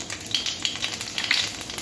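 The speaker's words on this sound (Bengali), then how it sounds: "ফোড়ন দিয়ে দেবো কালো জিরে," Black cumin (kalonji) seeds sizzle and crackle as they hit hot oil in a pan while spinach and vegetables are being cooked, a steady close frying hiss with small pops and no voices.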